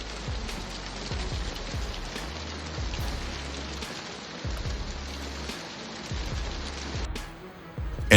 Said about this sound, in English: White rocks are falling like bullets. New Jersey is engulfed in a violent storm.